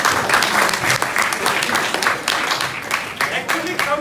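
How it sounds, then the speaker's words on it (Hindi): An audience of children at a poetry recital applauds loudly. The clapping is dense and sustained with a steady roar throughout, and a few louder claps stand out near the end. "वो जोरदार ताली बजाओ"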